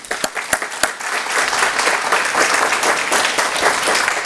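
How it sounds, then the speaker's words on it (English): Applause from an audience at a startup pitch showcase as the director of a small business development center stands; a few sharp early claps swell into sustained, dense clapping. "Madeline, please stand and take a round of applause"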